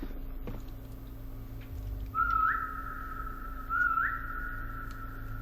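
Two short rising whistles from a person in a Roblox game, each starting with a quick upward slide and then holding a steady tone for about a second and a half. They sit over a low background hum, with no talking.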